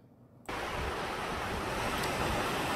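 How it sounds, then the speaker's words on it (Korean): A mountain valley stream beside a retreat and lodging property rushes loudly and steadily, its broad roar cutting in abruptly and continuing without a break. "물소리가 계곡이 얼마나 우렁차게 들리는지요?"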